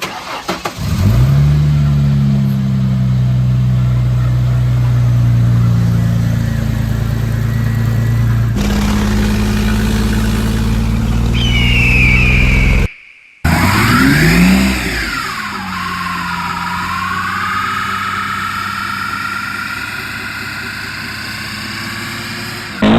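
Ford Mustang engine running loud and close, a steady idle rumble climbing through several revs, then a brief cut before the engine picks back up and revs again, with no talk.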